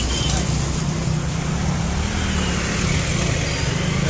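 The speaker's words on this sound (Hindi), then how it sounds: "लोकल ट्रैफिक यहाँ का NH 34, कोई ट्रैफिक लाइट नहीं है" Steady local road traffic on highway NH 34 in India, a continuous broadband roar of passing cars and engines with low rumble throughout, no pauses, close and fairly loud.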